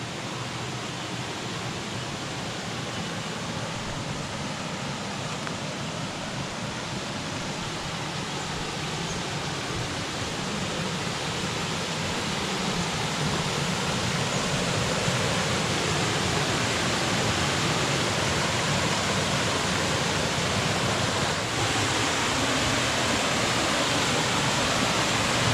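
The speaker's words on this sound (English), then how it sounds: "you're in the middle of a big rainfall event. There'll be water coming everywhere." Heavy rainfall sends water rushing everywhere across an off-grid lakefront property in south-east Queensland, a loud, steady broadband roar like a waterfall or swollen stream that holds constant throughout and swells slightly louder in the second half.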